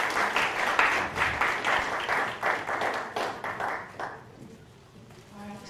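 An audience at the Cambridge Africa Business Conference applauds the conference team, a dense burst of clapping that fades out after about four seconds and leaves a quieter room.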